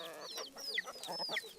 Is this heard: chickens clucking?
yes